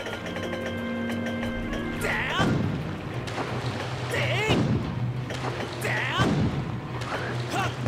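Repeated cannon shots fired at enemies in Zelda: Skyward Sword's shipyard, three heavy booming thumps spaced a couple of seconds apart over game music, with a voice talking between them.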